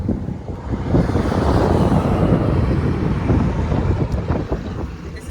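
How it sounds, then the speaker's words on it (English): Strong wind blows outdoors near cabins in Bastrop, Texas, buffeting the microphone in a loud, continuous low roar that swells and eases slightly over a few seconds, with no voices. "It's very windy."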